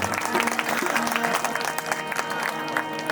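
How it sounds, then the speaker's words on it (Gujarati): Audience clapping for a bhajan singer at a Ramdevpir pratishtha religious gathering, a steady dense wash of many hands applauding close by, with no break across the whole stretch. "જોરદાર તાળીના ગરગડાથી આપણે ઘનશ્યામભાઈ ચાવડાને બતાવો. તાળીઓ પાડો."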